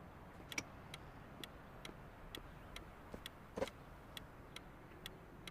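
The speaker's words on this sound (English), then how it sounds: "Left blinker?" A car's left turn signal blinker ticks in a quiet cabin, faint and evenly spaced at about two ticks per second, with one slightly louder click partway through.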